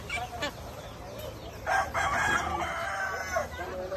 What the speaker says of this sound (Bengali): কত সুন্দর লাগে এই মুরগিগুলা।